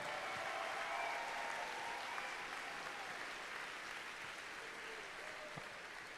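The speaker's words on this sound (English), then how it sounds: "let's give the judges one more huge round of applause for just a difficult job." Sustained audience applause in an arena at a FIRST robotics state championship, a dense wash of clapping that stays loud for several seconds and then eases slightly toward the end.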